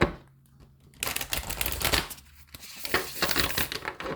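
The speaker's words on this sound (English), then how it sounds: "Let me shuffle these cards" Oracle cards shuffled by hand, a close papery riffling and rustling in two rough bursts with a brief pause between, fairly quiet and with no talk.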